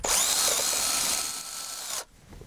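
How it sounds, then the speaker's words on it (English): A power drill bores a hole into a cracked plastic motorbike body panel during a repair, its steady high whine running loud and close for about two seconds before cutting off abruptly, leaving a faint rattle. "I'll hand you this here drill"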